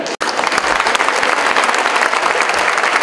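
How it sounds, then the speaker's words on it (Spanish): Loud, dense audience applause at a public event on ending violence, many hands clapping in a continuous roar that stays strong from start to finish after a brief gap at the very beginning. "fuertes los aplausos para la doctora María de la Luz Domínguez Campos"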